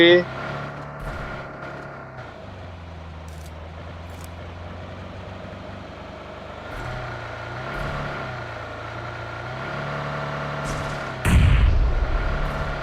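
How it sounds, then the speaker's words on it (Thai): A grenade blast and gunfire in the PUBG Mobile battle game, with a steady rumbling engine-like drone throughout and one sharp, loud burst near the end. "อืมระเบิด"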